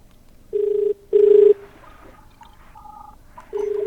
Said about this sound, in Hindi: राजेश कुमार जी को हम फोन लगा रहे हैं